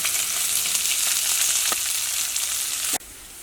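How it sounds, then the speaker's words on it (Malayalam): Chopped onion, ginger, garlic, green chilli and curry leaves sauté in hot oil with a loud, steady, close sizzle and a few stirring scrapes, then the sound cuts abruptly to a quieter hiss near the end. "ഇതെല്ലാം കൂടിയിട്ടൊന്ന് ചെറുതായിട്ടൊന്ന് മുരിഞ്ഞ പോലെ വരണം."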